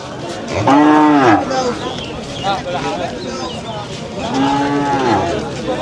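Cattle lowing at a busy livestock market: two long, loud moos, one near the start and one near the end, with crowd chatter and market bustle throughout.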